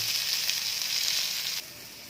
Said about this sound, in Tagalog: So yan po, lutuin yung ating patty.